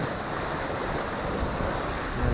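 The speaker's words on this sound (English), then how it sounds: "The wind's whistling through the valleys in between these volcanic peaks." Steady wind rushing over a Hallberg-Rassy 54 sailboat off St. Eustatius near volcanic peaks, a constant broad roar with water wash, slightly louder at the end.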